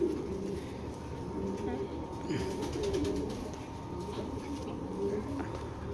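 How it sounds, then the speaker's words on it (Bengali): Silver-eye foreign racing pigeons coo softly and repeatedly close by, low murmuring calls over a faint background hum, with some talk around them. "এটা হলো আপনার সিলভার আইসের যে কবুতরটা"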